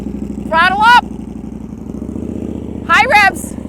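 A motorcycle engine drones steadily at idle, with two short bursts of speech over it; the engine stays loud and close throughout.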